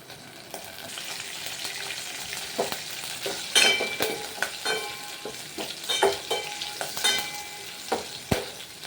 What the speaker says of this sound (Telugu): తాలింపు దినుసులు ఆయిల్లో వేసుకొని ఫ్రై చేసుకోవాలి 2 మినిట్స్.